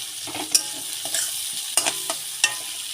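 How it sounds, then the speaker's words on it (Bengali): Onions frying in a pan for a snakehead fish curry, a soft continuous sizzle broken by several sharp clacks and scrapes of a utensil stirring at irregular intervals, close up with no voices. "পিঁয়াজটা দিয়ে কিন্তু এবার একটু ভাজা ভাজা করে নেব সুন্দর করে"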